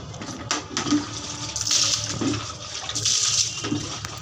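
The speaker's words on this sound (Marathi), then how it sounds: "नंतर पाण्याने स्वच्छ धुवून घेतली." Water pours and splashes in surges while a terrace area is washed clean, a rushing, gurgling flow rising and falling over about four seconds with no talking.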